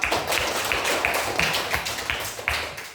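In an Indonesian classroom, students clap together in a fairly regular rhythm, about ten sharp claps in unison, close and loud.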